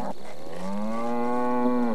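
A single long cartoon cow moo, rising and then falling, is heard during a cattle branding scene in Texas, loud and close with faint background behind it.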